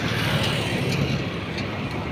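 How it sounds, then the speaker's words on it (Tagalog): A car passes on a road: a steady, broad rumble of tyres and engine that stays fairly loud for the whole short moment, with no voices. "Kotse."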